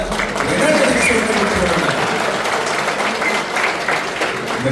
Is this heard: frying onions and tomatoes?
no